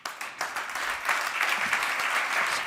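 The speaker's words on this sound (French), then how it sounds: "Je vous demande d'applaudir Paolo Bosso." Applause at a Swiss talent awards event greets a guest, clapping that starts abruptly and quickly swells into a full, even wash of many hands.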